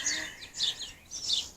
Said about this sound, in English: can you hear my little co-hosts? There they are, twittering and tweeting away.